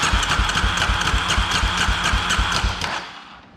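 A 2003 Polaris Predator 500 ATV engine idles close by with a rough, steady pulsing beat that fades out near the end of the short stretch.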